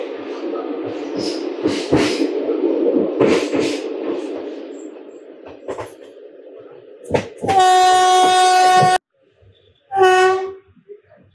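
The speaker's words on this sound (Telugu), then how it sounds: "ట్రైన్ చూడండి మళ్ళీ మెల్లిగా టనల్లోకి అయితే వెళ్తుంది" A train rumbles and clatters along slowly into a tunnel on the Visakhapatnam–Koraput line, in rain, then blasts two loud horn notes, the long one cutting off sharply before a short final blast.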